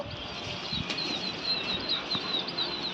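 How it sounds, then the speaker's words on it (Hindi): Pigeon wings flap in quick fluttering bursts as a flock of kept pigeons takes off from a rooftop in Lucknow and flies close by, with faint outdoor background noise. "कबूतर उड़ गया सारा"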